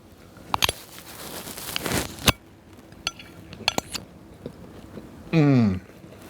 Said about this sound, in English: I have to take a bite of this burger though, to see if it is up to par.